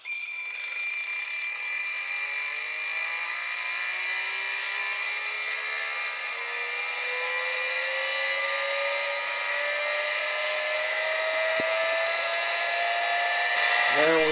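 An old 12-volt car vacuum cleaner motor and small fan motors, switched by a Raspberry Pi, whine steadily with a tone that climbs slowly as they spin up, fairly loud and with no talk over them.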